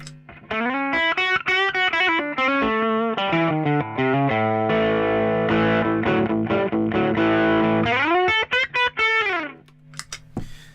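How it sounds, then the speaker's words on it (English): An electric guitar played through a Blues Driver overdrive pedal, with warm, gritty sustained notes and bends in a melodic phrase, close and fairly loud, ending with a fade. "this one, which is the Blues Driver, which is just a little bit more gentle than your sort of standard distortion"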